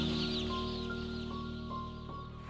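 Meat chickens clucking and murmuring in an overcrowded barn over a steady mechanical hum, with a few short higher calls.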